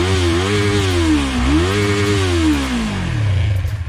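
A 2019 Yamaha R3 motorcycle engine buzzes loud and close, revving up twice and dropping back, then settling toward a rough idle near the end.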